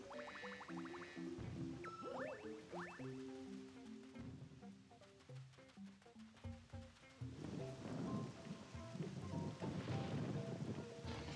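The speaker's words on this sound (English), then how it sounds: "we don't want to get in the rain" Rain patters and thunder rumbles in the video game Super Mario Galaxy, swelling in the second half after a stretch of melodic game music and chimes.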